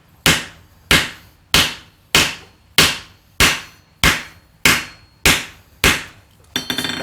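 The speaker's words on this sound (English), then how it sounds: "get a piece of wood and just practice on that" A hammer strikes a practice piece of wood in ten loud, evenly spaced blows, each a sharp crack that quickly decays, with nothing else heard in between.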